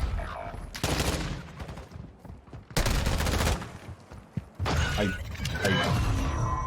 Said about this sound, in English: He's shooting that guy through the wall.